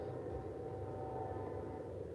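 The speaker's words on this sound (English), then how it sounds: "Oh, good, a train." A train passes nearby, making a steady, continuous rumble with a faint tonal hum that holds at an even level throughout, with no voices over it.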